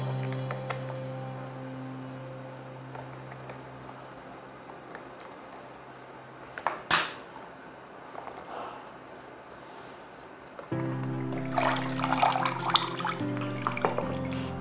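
Water trickles steadily from a PP-R pre-filter as its filter cup is loosened with a spanner, followed by a sharp metallic clank midway and then a louder surge of running, splashing water.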